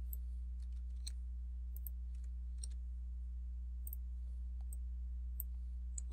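Sharp, quiet computer mouse clicks come singly and in pairs at irregular intervals over a steady low electrical hum on a computer.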